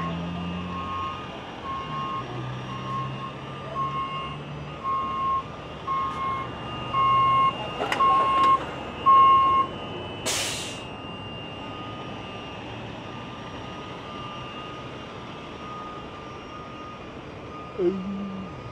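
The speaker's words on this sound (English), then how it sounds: "All right, I'm gonna back up." A tow truck backing up sends out steady, evenly spaced reversing beeps over a wide low engine rumble at a wreck scene, with brief voices and clanks partway through.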